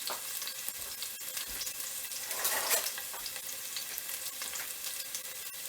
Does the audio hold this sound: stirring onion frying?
yes